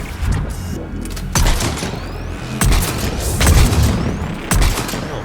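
Heavy booming sniper rifle shots in Mass Effect 3, several loud blasts spaced a second or so apart over a dense battle backdrop of rumble and clatter, with no talking.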